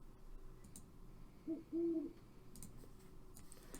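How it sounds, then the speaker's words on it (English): An owl gives a double hoot, one short call followed by a longer one, close and clear over a quiet background with faint clicks, prepared as a sound effect for a Minecraft owl series. "So here's a good double hoot."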